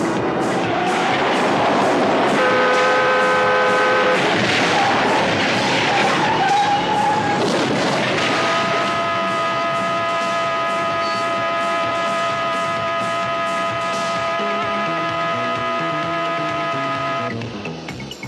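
A car skids under braking with a long, loud, sustained tyre screech mixed with shrill tonal squealing that persists for many seconds before cutting off, with no talk over it.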